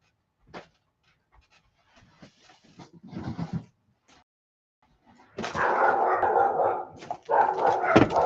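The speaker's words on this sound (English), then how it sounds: "So I noticed that the pups like to rile each other up." Puppies nearby panting, yipping and barking as they rile each other up in play, starting with faint sniffs and whimpers, then building to loud sustained barking and panting.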